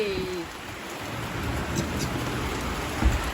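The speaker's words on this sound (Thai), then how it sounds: "ไม่อยากจะเชื่อเลยลูกเห็บตกวันนี้" Heavy rain and hail pound down steadily in a dense, continuous wash of noise, with a deep rumble of thunder beneath it and a brief sharper knock near the end.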